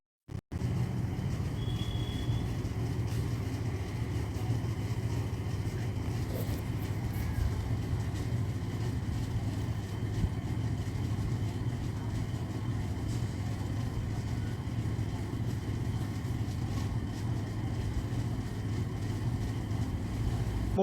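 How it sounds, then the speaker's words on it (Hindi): A motorbike engine runs steadily while riding, a continuous low rumble mixed with wind buffeting the microphone, holding at an even level throughout after a brief start. "तो बाइक चल रही है, आप सुन रहे होंगे।"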